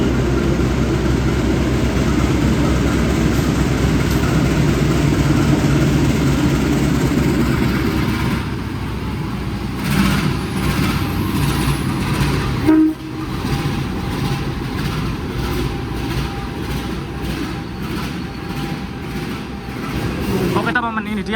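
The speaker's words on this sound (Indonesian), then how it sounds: "ini dia lokomotif dinas kereta api Sri Tanjung yang akan aku naiki adalah CC-018329" A CC-201 diesel locomotive hauling the Sri Tanjung passenger train rumbles steadily at close range, with a horn blast cutting in partway through, while people talk over the engine noise.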